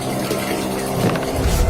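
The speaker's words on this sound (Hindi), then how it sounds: "फिर पानी की आवाज आती है बाथरूम से।" Water running in a bathroom, heard as a loud, steady rushing flow with a faint tap-like hiss throughout, no voices.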